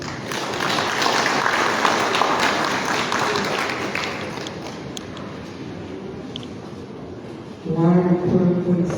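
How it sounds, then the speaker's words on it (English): Audience applause at Liberia's first infrastructure conference, a broad sustained wash of clapping that slowly thins out, after which a voice begins speaking over the fading claps. "Can we have another round of applause?"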